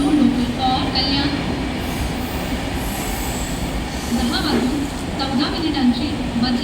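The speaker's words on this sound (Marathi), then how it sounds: "प्लॅटफॉर्म क्रमांक 1 पर आई हुई लोकल 10:17 की कल्याण जाने वाली धीमी लोकल है" Mumbai local slow train on the Central line arriving at platform 1 of a station, heavy rolling rumble with intermittent wheel squeals and clatter, under a station announcement and background voices.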